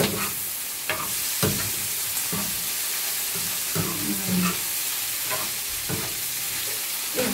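Tofu sisig with onions frying in melted margarine in a pan, a steady loud sizzle broken by repeated scraping stirs of a spatula, with no talking.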